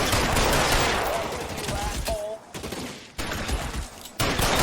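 Dense, rapid gunfire rattles through a shootout in L.A. Noire, loud bursts overlapping almost continuously with brief gaps near the end, while voices shout amid the shots.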